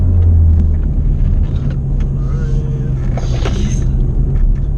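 A 2016 Chevrolet Camaro 2.0-litre turbo engine with a muffler delete and stock catalytic converter rumbles steadily with a deep, loud exhaust drone, revving briefly partway through, with some voices faintly underneath.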